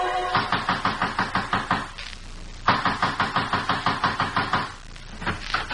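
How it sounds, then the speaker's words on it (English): A door is pounded loudly and rapidly in an old radio crime drama, with two long bursts of heavy knocks separated by a short pause. "You trying to break down the door?"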